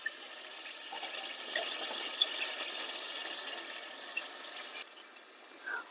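Chana cooking water poured from a vessel into a pan of onions on a low stove, a steady splashing pour running for about five seconds, close and moderately quiet, with no talking.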